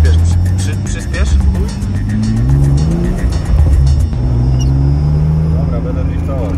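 A car engine revving and climbing in pitch through repeated accelerations, loud and close, with people talking over the engine noise.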